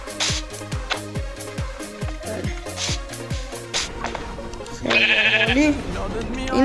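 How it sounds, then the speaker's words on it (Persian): Sheep bleats from Minecraft ring out near and loud, a quick run of short repeated bleats, then a longer sustained one, all over rhythmic game music. "بعد خیلی راحت شما یه گوسفند دارید که"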